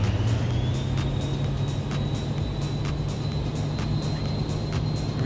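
Cirrus SF50 Vision Jet engine spooling to takeoff power in MSFS 2024, a steady broadband roar with a low drone and a rising high whine, continuous and loud without talk.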